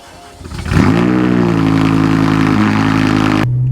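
A BMW M6 with a V10 engine and F1-style exhaust cold-starts, cranking briefly before catching into a loud, steady high idle with a harmonic drone, then cutting off abruptly near the end.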